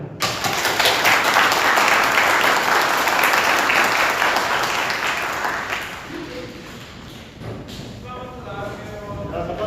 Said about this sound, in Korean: 여러분들에게 박수를 보냅니다